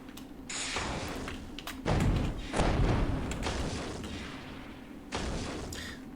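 Shots fired in the game Voracious Vampirism: a few heavy thumping blasts with booming echoes inside a room, spaced a second or two apart over a steady noisy backdrop, with no talking.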